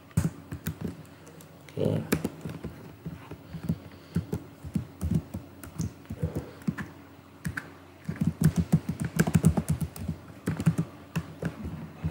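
Keys clatter on a computer keyboard in irregular bursts of close, crisp taps while a Python script is written for a web and crypto CTF challenge, with someone speaking over parts of the typing.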